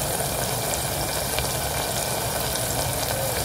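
Loud, continuous sizzle of spices, turmeric, Malvani masala and red chilli powder, roasting in oil, crackling steadily and close up with no pauses.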